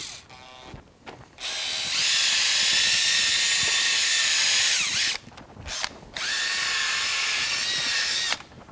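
A power drill whirs loudly in long runs, stopping and starting with brief clicks between bursts, close by, used for grooming the hair of beef show cattle.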